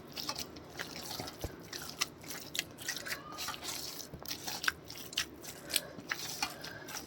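Wet, squelching presses and soft crunches come from hands kneading a mixed lentil dough, like working flour dough, repeating in an irregular rhythm close up with no one talking.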